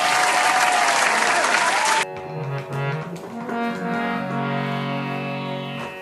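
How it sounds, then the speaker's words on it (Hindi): An audience gives loud, enthusiastic applause for a bhajan singer at a devotional music gathering; the dense clapping stops abruptly after two seconds and sustained melodic instrumental tones follow. "एक बार आपकी जोरदार तालियां अनिरुद्ध जी खांडल के लिए होनी चाहिए।"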